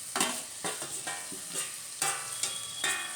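Beans and cabbage fry in a pan, and a spoon stirs them in rhythmic scrapes and clacks over a soft sizzle, close and fairly quiet, with no voices.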